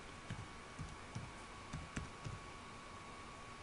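Soft, evenly spaced keystrokes on a computer keyboard tap out about half a dozen light clicks over a steady low hiss, quiet and close.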